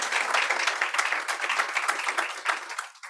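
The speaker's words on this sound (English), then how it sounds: "And Dr. Swafford, a round of applause." Audience applause at a panel event on charter school data, a dense patter of many hands clapping at moderate level that begins to fade toward the end.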